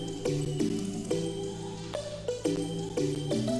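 A synth melody run through EQ, OTT compression and chorus plays a bright, sustained tonal phrase of chord-like notes changing roughly every half second, loud and alone with no voices.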